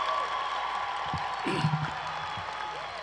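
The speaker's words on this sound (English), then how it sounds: "Let's give them a round of applause" A graduation audience at Clover Park Technical College applauds the standing faculty and staff, a fairly faint, even patter of many hands with a few whoops and murmured voices mixed in.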